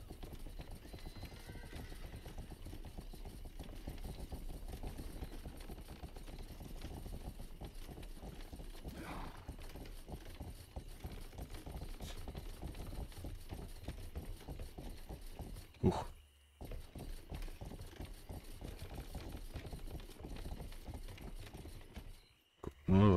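Horse hooves clip-clop steadily through a ride in the video game Rustler, a continuous rhythmic trotting close by with an occasional whinny, the pace unbroken apart from two short dropouts near the end.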